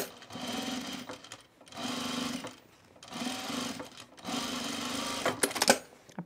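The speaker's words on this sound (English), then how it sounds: "Now I'm going to edge stitch this down." Sewing machine edge stitching a fabric baby bag, running in four steady bursts of a second or so each with short pauses between, close and clear, ending in a few sharp clicks.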